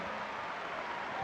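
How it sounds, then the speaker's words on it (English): A basketball arena crowd roars and applauds during a 1988 Lakers–Bullets game, a dense, steady wash of cheering heard at a distance and fairly faint, with no distinct voices standing out. "Noisy crowd."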